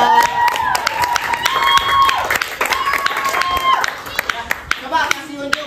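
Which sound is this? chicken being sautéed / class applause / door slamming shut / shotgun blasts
class applause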